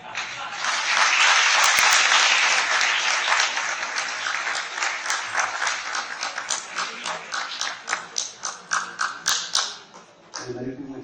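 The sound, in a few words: audience applause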